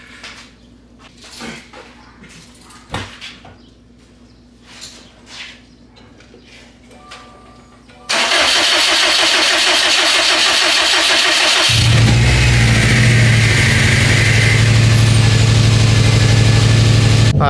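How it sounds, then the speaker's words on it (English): A 2017 Subaru STI with freshly changed spark plugs cranks and fires up after quiet handling noises, then settles into a loud, steady idle with a deep rumble close by. "Let's give her a start."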